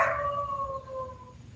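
A dog gives a single long, wavering howl that slowly fades, clear and fairly close over a low background rumble.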